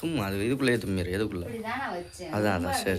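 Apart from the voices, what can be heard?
No everyday noise stands out behind the speech.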